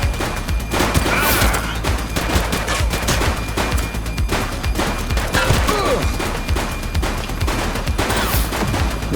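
Dense, continuous gunfire during a police shootout in the video game The Precinct, with rapid bursts and single shots layered over booms, loud and close throughout the clip.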